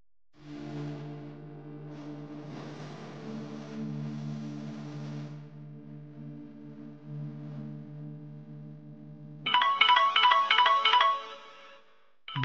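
A phone ringtone in a Telugu TV serial scene, a sustained electronic melody that runs steadily, then turns into a brighter, louder burst of tones near the end. No one speaks.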